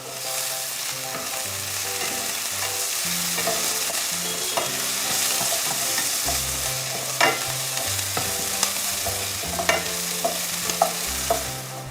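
Diced aubergine and chopped garlic fry in a pan with a loud, constant sizzle and occasional stirring clicks over a music bed, with no speech.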